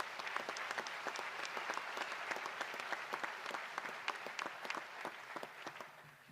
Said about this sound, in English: Let's give our Mighty Lion faculty a round of applause for all their hard work.